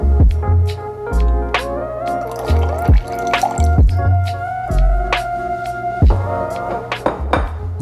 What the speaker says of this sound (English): Now place the carafe onto the scale and measure out 960 grams of room temperature filtered water.